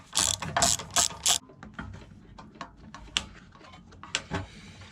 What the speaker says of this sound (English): There's a bolt in here we got to undo.